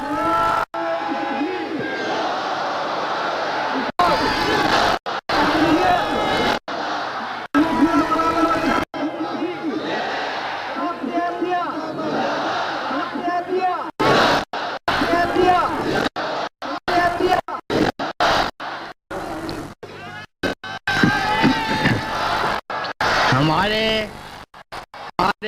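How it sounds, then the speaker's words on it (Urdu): A large crowd at an annual religious gathering chants slogans in unison before a prayer, loud rhythmic bursts of many voices separated by short pauses, repeating throughout. "آپ نعرے لگا لو تھوڑے سے دعا سے پہلے"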